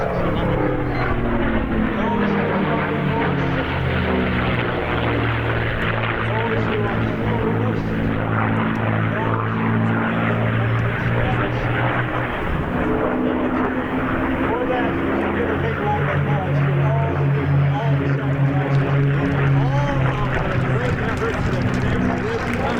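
P-51 Mustang propeller aircraft flying over at an air show at Cherry Point, a loud steady piston-engine drone with shifting pitch as they pass, under a continuous public-address announcer talking.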